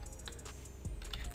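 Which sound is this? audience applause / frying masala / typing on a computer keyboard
typing on a computer keyboard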